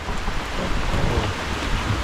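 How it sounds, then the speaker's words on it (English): Steady, dense rain pours down with a constant hiss and low rumble, loud and close, with no pauses or voices. "The rain is here again."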